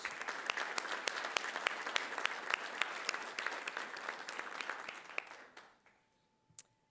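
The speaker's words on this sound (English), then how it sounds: "I would like to give both guidance counselors and Career Center specialists, even if they were unable to join us this evening, a big round of applause" A board meeting audience gives a sustained round of applause for guidance counselors, a dense steady patter of many hands that fades out near the end, leaving a faint tone and one last clap.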